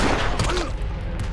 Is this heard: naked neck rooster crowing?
no